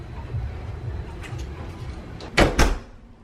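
A bungalow front door at a Polynesian resort bumps and knocks twice in quick succession as it is propped open, close and fairly loud over a low background murmur.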